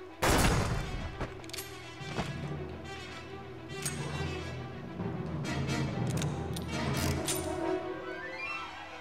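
Gunfire from the PS2 shooter Black, with dense overlapping shots, loud crashing blasts and booms in a continuous barrage, with a rumbling game soundtrack underneath.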